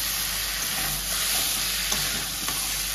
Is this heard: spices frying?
yes